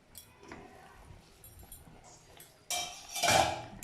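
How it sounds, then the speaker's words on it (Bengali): A cooking pot lid is lifted off a pan of doi potol, pointed gourd simmering in a yogurt curry, with a sharp metallic clank and scrape followed by a louder burst of bubbling and steam. Faint kitchen clinks come before it. "এবার ঢাকাটা তুলে নিচ্ছি"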